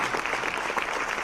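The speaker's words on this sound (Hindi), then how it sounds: "जोरदार तालियों से हम आपका स्वागत और अभिनंदन।" Short burst of dense applause greeting the Chief Minister at an RAS officers' training program in Jaipur, steady and fairly loud throughout without a break.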